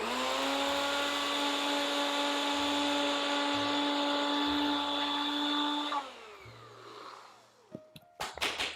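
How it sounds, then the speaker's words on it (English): A NutriBullet blender grinds oats for plant-based nugget mix with a loud, steady motor whine for about six seconds, then winds down, followed by a few sharp clacks as the cup is handled. "I've just got my NutriBullet here, just to get the oats ground down and it all mixed together really well."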